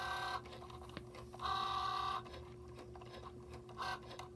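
A Cricut Joy cutting machine draws little snowflakes, giving a soft, steady mechanical whir with faint motor pitch shifts and small clicks, close and quiet with no talk.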